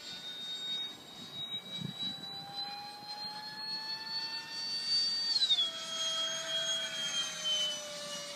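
A ParkZone Habu 2 RC jet with a 5-cylinder 5S setup and 110A ESC flies past, its electric ducted-fan whine loud and steady, then dropping sharply in pitch partway through as it passes and recedes, with no talk.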